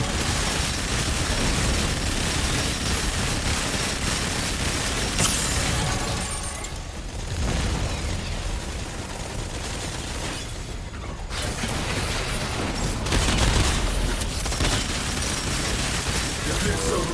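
Enemies shooting at a dome in Krieger gameplay: continuous rattling gunfire and booming impacts, loud and crowded, with brief lulls and a voice talking through the action.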